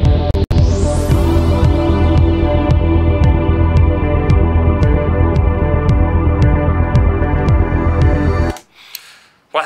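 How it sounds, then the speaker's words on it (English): Electronic music mix with distortion driving the kick drum and bass, giving a dense, steady pounding beat with a regular rhythmic pulse that plays loud and continuous before cutting out abruptly near the end. "I'm gonna start to apply some distortion to the kick and the bass"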